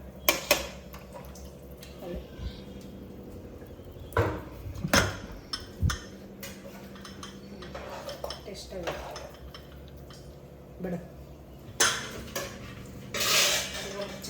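Metal clinks and clatters of a pressure cooker lid being handled and fitted onto a pot of bisi bele bath, scattered knocks and scrapes at irregular intervals, close and fairly crisp.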